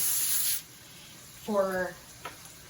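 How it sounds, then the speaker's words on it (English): Cooking spray hisses onto a grill grate in a short, loud burst at the start, then trails off. A brief voiced sound follows in a quieter moment. "I am gonna spray my grate here"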